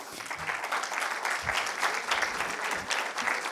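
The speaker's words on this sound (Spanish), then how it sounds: "La invitamos a pasar y un aplauso también para ella." Audience applause at a logistics and transport forum as a moderator is welcomed, sustained clapping from a seated crowd, steady and moderately distant, with a few louder claps standing out.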